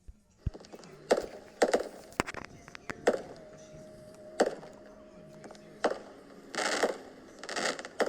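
Fireworks at a backyard show pop and crackle in scattered bursts, some sharp single bangs and some longer crackling clusters, heard from a moderate distance with faint voices in between.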